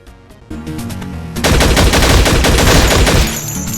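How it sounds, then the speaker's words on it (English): A few sharp shots from the Flash game Infectonator: Survivors give way to rapid, loud bursts of gunfire in a dense, continuous volley before it eases off. "the gunshots used here are very loud for a Flash game"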